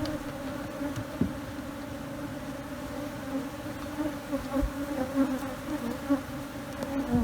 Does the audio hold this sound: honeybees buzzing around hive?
yes